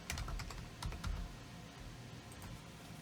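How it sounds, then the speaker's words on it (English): Keyboard typing while entering text into a design template for a 20oz skinny sublimation tumbler, a quick burst of close, soft key taps early on, then a few scattered clicks over a low background hum. "tap onto your design area, begin to type"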